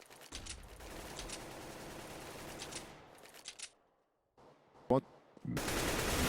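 Automatic rifle fire sprays through smoke in a Counter-Strike match, loud sustained bursts that cut out, then a single sharp shot and renewed heavy gunfire.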